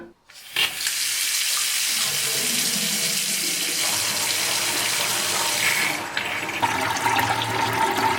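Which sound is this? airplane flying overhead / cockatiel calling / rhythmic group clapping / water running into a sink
water running into a sink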